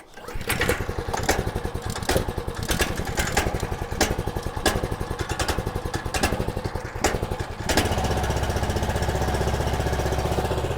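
Small petrol engine on a wood chipper, run on choke at quarter throttle, rattling steadily with a fast pulsing beat, then settling into a smoother, more even run as it warms up, close and loud.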